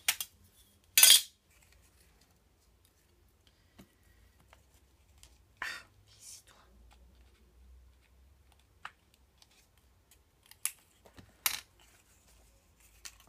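A wooden strip for a scrapbooking project organiser is cut in a few sharp, separate snaps, one of them loud and close, with quiet pauses and small taps between them.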